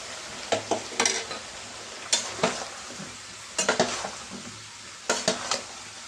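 Eggplant pieces stirred into a dried-fish curry in a pan, with clusters of loud utensil scrapes and clanks against the pan recurring every second or so over a soft frying sizzle, close by and with no talk.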